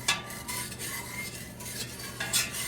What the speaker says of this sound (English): So we're gonna stir this up. See, it's dissolving pretty quick.